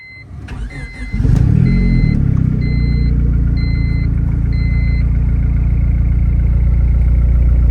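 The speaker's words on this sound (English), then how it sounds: "Now that we're in the Turbo Civic here, I'm going to fire this thing up" Turbo Honda Civic starting up: a few dashboard chimes and a brief starter crank, then the engine catches with a rising surge and settles into a loud, steady, rumbling idle, close by, several warning beeps continuing early on.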